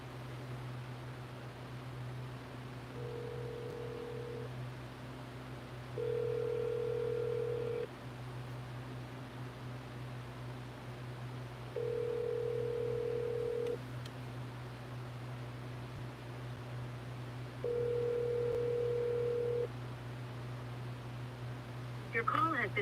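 A phone call rings out over a quiet, humming line, with four evenly spaced ringback tones before the call is forwarded to voicemail.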